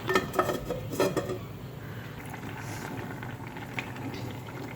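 Tuna fish curry simmering in a covered pot, with a few clinks of the lid and pan at first, then a soft, steady bubbling hiss close by.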